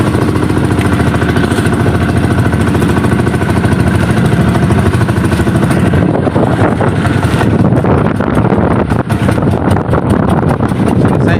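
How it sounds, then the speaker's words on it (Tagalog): A strong northeast monsoon wind blows at sea on a net-fishing trip, a loud continuous roar battering the microphone with a low engine-like rumble throughout. "kaso ito malakas yung amihan"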